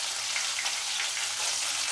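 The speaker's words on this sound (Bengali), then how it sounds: "এবার এটা এর মধ্যে ব্যাটারটার মধ্যে ডুবিয়ে ব্রেড ক্রাম্ব মাখিয়ে তেলে দিয়ে দিলাম" Breadcrumb-coated paneer fingers fry in oil over low heat, giving a soft, even crackling sizzle that runs steadily throughout with no talking.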